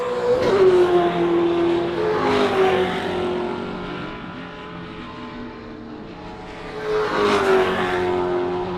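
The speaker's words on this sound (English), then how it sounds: "Two notchback Mustangs fighting over second place in the 5 litre classics class." Two notchback Mustang race cars in the 5 litre classics class of an Australian TransAm race roar past with revving engines and shifting pitch, loud and close, fading mid-clip before another surge of engine noise returns.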